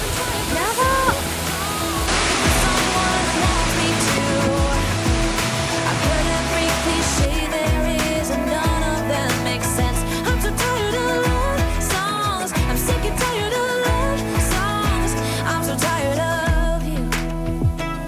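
A waterfall on Yakushima roars up close as spray falls and wind gusts, a loud, dense, unbroken rush of water filling the whole scene, with no voices over it.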